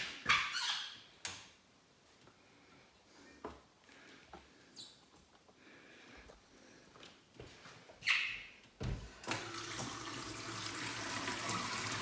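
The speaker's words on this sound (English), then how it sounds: "Good volumes of water. Good pressure of water." Kitchen tap running at high pressure after a new deep well pump hookup, with bursts of clatter early on and a steady broadband water rush taking over loudly in the final seconds.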